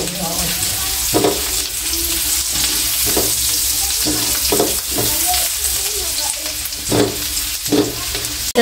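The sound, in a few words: garlic frying and sizzling in a pan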